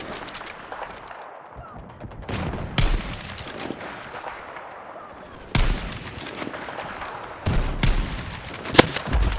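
Bursts of gunfire in Battlefield 6 played on console with mouse and keyboard, sharp shots and rattling volleys in irregular clusters over a quieter background, some loud and close, others distant.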